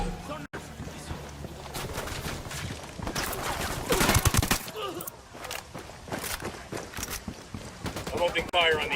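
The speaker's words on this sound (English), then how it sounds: "I'm opening fire on these shitheads." Gunfire in the video game Ghost Recon Wildlands: bursts of shots and sharp cracks recur across the scene, loudest in the middle, mixed with game sounds and voices talking.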